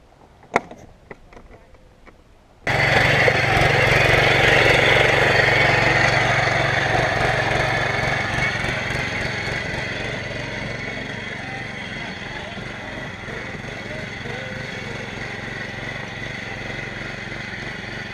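A gas-powered Power Wheels ride-on with a small engine and throttle issues starts up after a few clicks, then runs steadily and loudly with a buzzing drone that slowly eases a little, with people talking over it.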